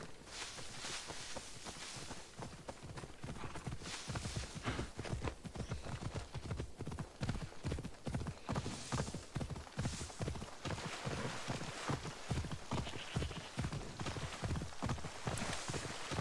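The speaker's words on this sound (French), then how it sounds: "Allez, on va y aller à cheval." Hooves clip-clop in a steady walking rhythm in a video game, growing more distinct and regular as the horse moves along, with no speech.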